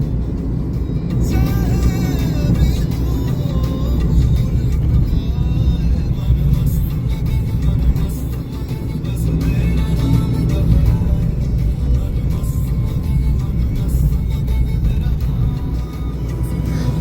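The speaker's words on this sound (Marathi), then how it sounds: "आता मागून येणारा व्हाईट गाडीवाला बघा किती डेंजरसली ओव्हरटेक करतोय" Steady road roar of a car cruising on a highway as a white car overtakes dangerously, a continuous close engine and tyre drone with no talk heard.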